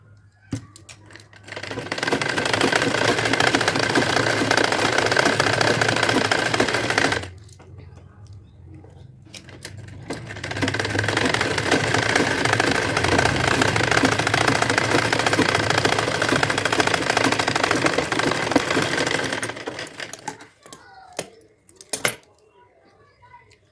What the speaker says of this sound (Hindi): उसके बाद फिर से एक बार इस पर मैं चला दूंगी सिलाई